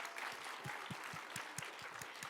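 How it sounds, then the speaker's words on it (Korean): Congregation applause at a church worship service, a steady wash of many hands clapping with no voices, moderately loud and continuous throughout. "박수 쳐주세요."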